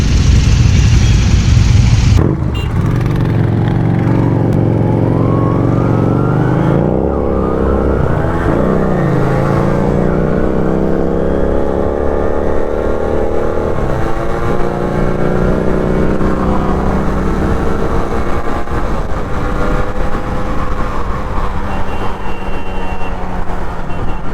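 Royal Enfield Himalayan motorcycles on a group ride, engines droning loudly while revs climb and fall in sweeping surges as bikes pull away and pass, with no voices.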